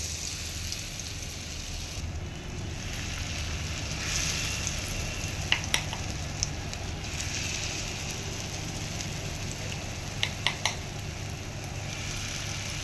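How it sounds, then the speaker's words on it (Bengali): Red lentil fritters fry in hot oil over a lowered flame, giving a dense, continuous crackling sizzle like rain, with a few sharp clinks scattered throughout. "আঁচ কমিয়ে এবার আস্তে আস্তে বড়াগুলো দিতে থাকবো।"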